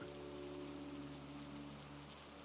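Steady rain falling, a soft even hiss of drops throughout with a low sustained hum beneath it, faint and unbroken.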